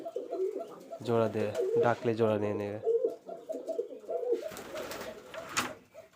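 A Rajshahi Giribaj pigeon, a female in breeding condition, coos softly at close range in a loft while someone talks over and between the calls.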